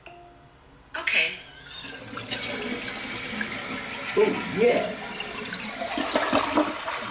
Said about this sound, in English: Alexa, turn on flush toilet.